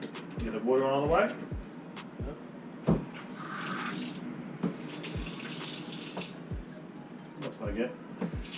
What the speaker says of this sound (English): Get the water on all the way.